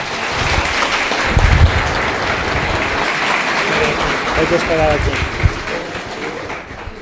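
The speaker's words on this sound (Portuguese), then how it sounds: "Vamos dar uma salva de palmas" A congregation at a Sunday Mass applauds in thanks, a continuous, moderately loud wash of clapping while a person speaks over it.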